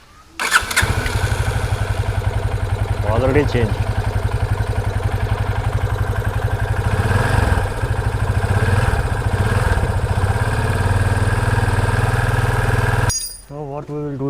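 A Yamaha FZ25 motorcycle idles steadily up close just after an air filter change, its even engine rumble running throughout with brief talk over it, then cutting off near the end.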